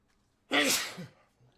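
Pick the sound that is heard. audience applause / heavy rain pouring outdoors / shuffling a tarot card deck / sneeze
sneeze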